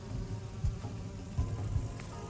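Flies buzzing in the video game Itorah, a low droning hum with a few short swells, steady and fairly close with no talking over it.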